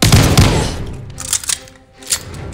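A gun fires in the shooter Call of Duty: Vanguard, a loud burst of close shots at the start followed by a few fainter scattered reports and thuds.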